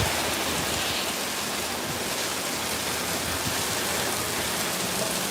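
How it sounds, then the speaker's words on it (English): Monsoon rain pours steadily in Las Vegas, a dense, even hiss of heavy drops on surfaces that stays constant and close throughout with no voices. "It's hard to tell that it's raining right now from this angle."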